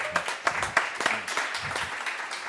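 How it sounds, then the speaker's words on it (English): A crowd at a health and wellbeing startup event on an arena stage in Valencia applauds a guest, with a few sharp, louder claps standing out at first before the clapping settles into a steady, fairly close patter. "Please give a big round of applause to Salvador Vera"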